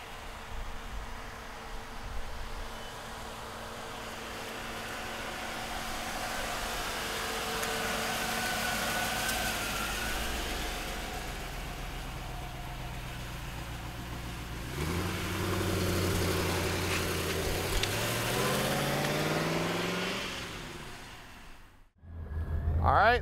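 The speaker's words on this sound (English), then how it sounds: "All right, let's take this Vette for a ride." A 1993 Chevrolet Corvette with a 6-speed manual drives in traffic, its V8 humming steadily inside the cabin, then rising through revs and gear changes before cutting to quiet near the end.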